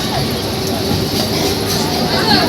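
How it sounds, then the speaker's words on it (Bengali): A train in motion rumbles steadily with a dense broadband roar heard from inside the carriage, constant and fairly loud throughout, with faint voices underneath. "আমরা ট্রেনে উঠে গেছি ট্রেন ছেড়ে দিয়েছে"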